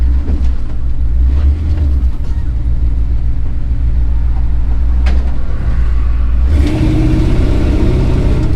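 A Chevrolet C10 truck with an engine problem drives along, its engine droning loud and close throughout, with the tone shifting and roughening near the end.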